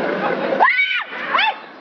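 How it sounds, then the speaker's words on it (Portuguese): A woman screams in fright during a Bushman prank, with two loud, rising-and-falling shrieks separated by a short gap, over background crowd noise and voices. "Eu assustei com ela gritando, achei que era um bicho"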